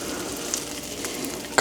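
Butter and oil sizzle in a hot pan while a pheasant is being cooked, a steady close crackling hiss throughout with a louder burst right at the end.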